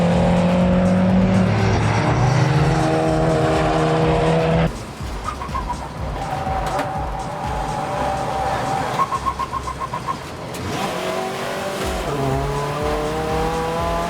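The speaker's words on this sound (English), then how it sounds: "Running a touch wide there was Parkin in his Audi TT" Audi TT TDI race cars lap the Anglesey circuit, engines droning near and loud, then cutting away as cars pass, with revving pitch changes and faint tire squeal, while a commentator's voice sits low underneath.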